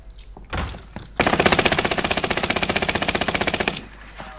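A burst of rapid automatic gunfire in Call of Duty: Warzone rattles for about two and a half seconds, loud and close, after a single earlier shot.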